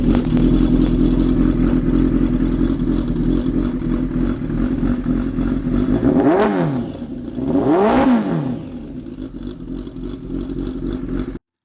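A Kawasaki ZRX1200R motorcycle with a CR Racefit 4-into-1 full exhaust idles loudly at close range, then gets two sharp blips of revving. Each blip climbs steeply and falls back to a rumbling idle.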